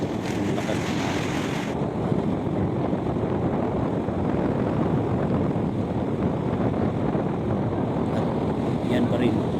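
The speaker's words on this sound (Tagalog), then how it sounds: "Wala namang ulan pero mapansin po natin yung lakas ng hangin." Strong wind at sea roars in a steady, heavy rush past the microphone, with broad noise from waves and a boat carrying on throughout with no pause.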